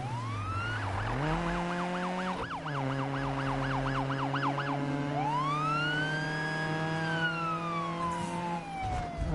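Police car sirens in a Need for Speed racing game, a rapid wailing yelp shifting into long rising and falling wails over a steady engine drone, loud and close.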